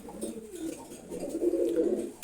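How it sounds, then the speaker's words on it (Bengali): A pair of Silver Gorra pigeons coos softly and close by, their low rolling calls rising and falling without pause through the short stretch, with no talk. "সিলভার গোর্রা কবুতর জোড়া এটা।"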